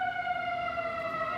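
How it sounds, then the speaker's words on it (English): A police car siren outside on the edge of Chicago holds a steady, bright wailing tone. It sounds moderately distant and continuous, with no talk over it. "that sounded like a police car"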